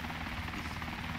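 Helicopter in the video game DayZ Epoch, a steady loud rotor thrum and engine drone filling the whole brief moment with no talk.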